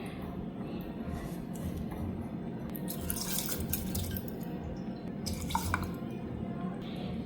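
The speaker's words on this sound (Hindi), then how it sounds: "ये मैं चावल भिगो के रखा था, तो उसको तो पहले अच्छे से वॉश कर देती हूँ।" Soaked rice being rinsed in a pot of water, with gentle sloshing and dripping, a few brighter splashes and clinks over a steady low background.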